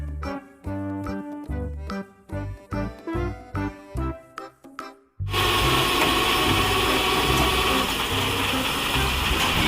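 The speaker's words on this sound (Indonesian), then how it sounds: "Truk dereks." A tow truck produces a sudden, loud, continuous rushing engine rumble that cuts in after a passage of music and stays steady throughout.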